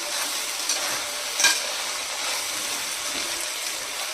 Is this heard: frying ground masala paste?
yes